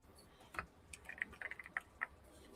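Quick bursts of keystrokes on a computer keyboard, faint and close, tapping in short irregular clusters with brief pauses between them.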